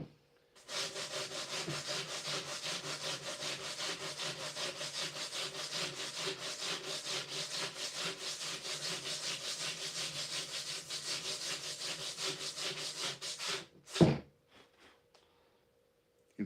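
Sandpaper rubs over a streamliner mold in quick, even back-and-forth strokes, loud and close for about thirteen seconds, then stops with a single knock.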